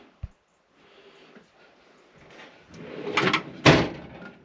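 A storage drawer in a Mercedes Sprinter work van slides open with a rolling rumble, building to a couple of sharp knocks and a louder clunk near the end, no voices.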